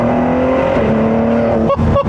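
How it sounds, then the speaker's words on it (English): A 2017 Ford GT engine roars at full throttle, its pitch climbing steadily, then two quick gear shifts break the sound near the end, loud and close. "So I'm gonna floor it here real quick"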